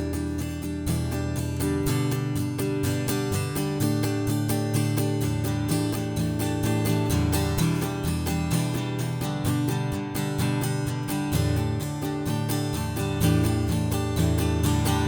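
Acoustic guitar strummed through chords in a steady, even 16th-note pattern, continuous and clear at moderate volume with no voice over it.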